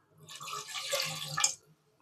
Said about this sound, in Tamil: குக்கர் அடுப்பில் வச்சு கொஞ்சமாக தண்ணி ஆட் பண்ணிக்க